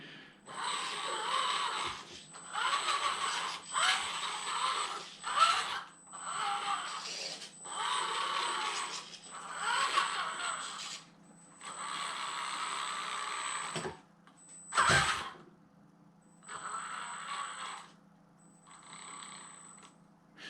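An FTX Outback Fury RC car's electric motor whirs in a string of short throttle bursts with brief pauses between them, a steady high whine riding over each burst, close to the microphone with no talking.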